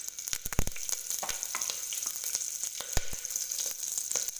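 Curry leaves crackle and sizzle in hot oil with cinnamon, cloves, cumin and green chillies, giving a steady close hiss broken by sharp pops and spits, with no voices.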